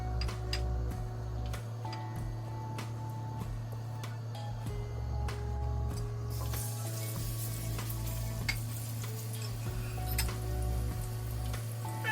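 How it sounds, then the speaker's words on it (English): Plantain frying in a pan for breakfast, a continuous crackling sizzle with rapid ticking pops under a low steady hum, growing brighter partway through, with no voices. "So I'm going to fry the plantain."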